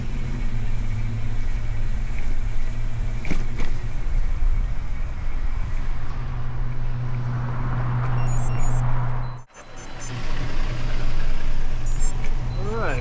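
Continuous loud traffic roar from Highway 520 during an uphill bike climb around Lake Washington in Seattle, with passing vehicles swelling and fading, a brief dip in the noise and faint beeping over the steady rumble.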